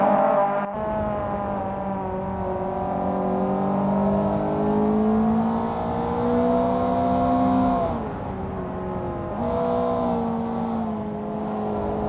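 Mazda Eunos Roadster touring race cars in Assetto Corsa, racing at Fuji, hold a loud, steady engine drone with layered harmonic whine that rises under throttle, dips briefly twice and climbs again, close and continuous without speech.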